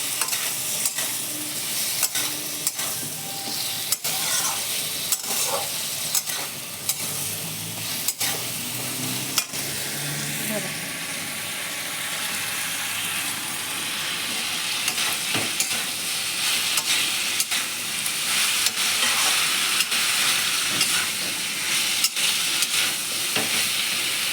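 Vegetables and spices sizzle loudly in a pan after a little water is added, a steady, close hiss and bubbling with occasional stirring scrapes and clicks.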